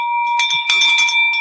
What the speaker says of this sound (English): Drop that bell.